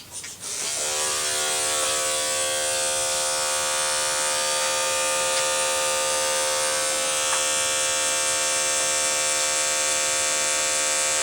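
Electric clippers running next to a horse, a steady close-up buzz that starts abruptly and holds at an even level for about ten seconds.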